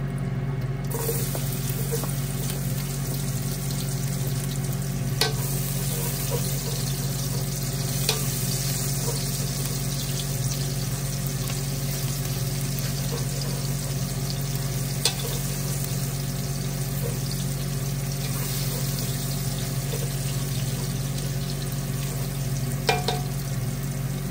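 Garlic frying in a pan, giving a loud, continuous close-up sizzle that holds steady throughout with occasional faint clicks of a utensil.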